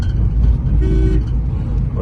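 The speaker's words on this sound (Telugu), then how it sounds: "నా కొడుకు హార్న్ కొట్టడం కూడా వచ్చిందిరా." A car horn toots in short bursts on a busy road, with traffic noise and a nearby voice underneath; a bus is approaching from behind.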